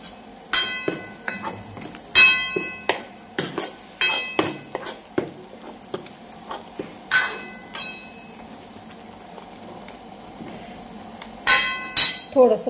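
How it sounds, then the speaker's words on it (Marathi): Spoon stirring ground masala paste with turmeric in a metal pot, repeated sharp clinks and scrapes against the sides in an uneven rhythm, with someone talking at times. "आता चांगलं हलवून घेते"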